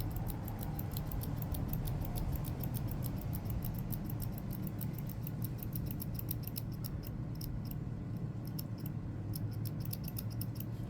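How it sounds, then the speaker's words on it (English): Scissors trim uneven edges from a sunglasses emoji coaster: a steady run of small, crisp snips repeating quickly and quietly, close up, with no talking. "I'm cutting off the little pieces that aren't level."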